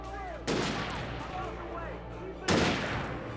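Two sharp, loud sniper gunshots in the game Alan Wake, about two seconds apart, each a hard crack followed by a rolling echo, with a faint voice murmuring underneath.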